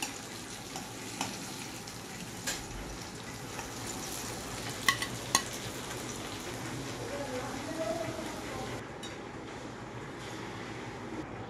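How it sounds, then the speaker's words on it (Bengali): Vegetables frying in a pan for sukto give a steady, soft sizzle and crackle throughout, with a few sharp clinks of a utensil, moderately quiet and close, no talking. "এবার সব সবজিগুলোকে ভালো করে ভেজে নেওয়া হবে।"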